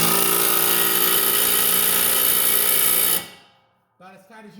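Impact wrench driving a 24 mm blade bolt on a John Deere Z655 54-inch mowing deck, a loud continuous buzzing hammer for about three seconds, then stopping abruptly before faint clatter follows.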